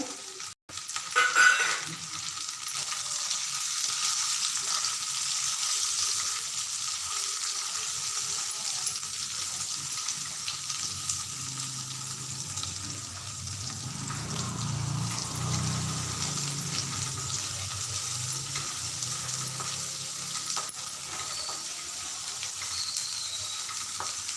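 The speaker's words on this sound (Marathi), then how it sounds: "कांदा हा थोडासा गुलाबी होईपर्यंत परतत राहायचा" Sliced onion, cut into thin long strips, frying in a pan for a simple vegetable dish with dried chillies, giving a steady, moderately loud sizzle that lasts throughout, with a sharp clink near the start and no talking.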